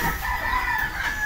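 Yona hens at a breeding yard: a rooster crows loud and close, one sustained call with no talk.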